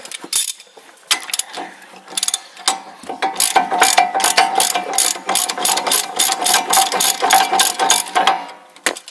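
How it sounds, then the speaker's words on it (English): A ratcheting wrench spins bolts on a 2010 Chevy Silverado during a wheel bearing replacement, giving fast, close, continuous clicking bursts in a steady rhythm with brief pauses between runs. "now we can get the ratcheting wrench"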